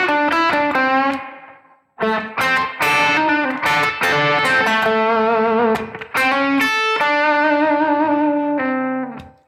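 Electric guitar plays a slow blues lick in minor pentatonic from one position, with distorted, effected tone, bent and sustained notes in two phrases split by a short pause, loud and alone.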